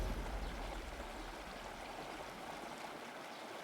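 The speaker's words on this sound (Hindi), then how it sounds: "तभी नदी के पानी में हलचल हुई" River water stirring in a cartoon story, a steady rushing, stream-like flow with soft gurgling that stays constant and fairly close, no voices present.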